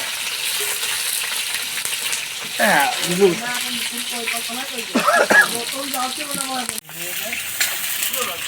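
Onions and chillies sizzle in hot oil under a person talking, with occasional stirring clinks of a spoon against the pan.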